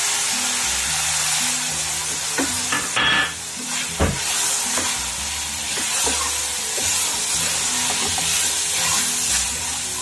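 Pineapple cooking over low heat in melted sugar in a pan, with a steady close sizzle broken by stirring scrapes and a few sharp knocks. It runs on its own, with no talk.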